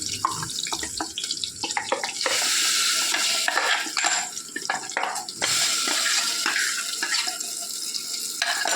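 Ground masala goes into onions frying in a pan, making a loud, continuous sizzle with repeated scraping and stirring knocks and a surging hiss as the wet paste hits the hot oil.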